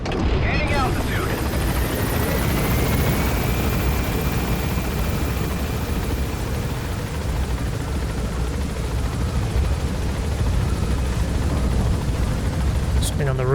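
Helicopter in Metal Gear Solid V: The Phantom Pain climbing after takeoff, a loud steady rotor and turbine roar filling the whole stretch, with a rising whine and game effects layered over it.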